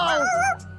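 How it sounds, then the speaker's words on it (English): A cartoon dog gives a short, high whimpering yip, a single bright wavering cry lasting under a second, close and loud. "Oh, I thought I heard a bark."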